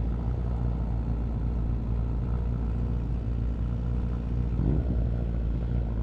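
A superbike engine drones on a downhill test ride, a steady low rumble with wind roar throughout and a slight rise near the end.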